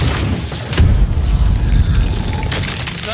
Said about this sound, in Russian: Граната, граната горит.